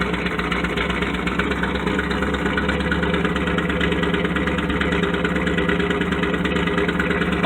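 A Chevrolet K5 Blazer V8 bought cheaply off Craigslist idles evenly after its first start in months, a close, constant low rumble that never changes for the whole stretch, with no voices.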